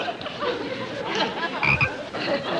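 A frog croaks in a few raspy, uneven bursts at moderate volume, heard alone against a quiet background.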